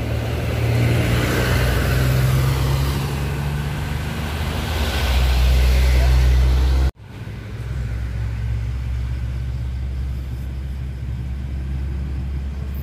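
A Gunung Harta Scania intercity bus passes on a road at a junction at night, its loud low engine rumble building close by, then cutting sharply to a steadier, slightly quieter drone of traffic.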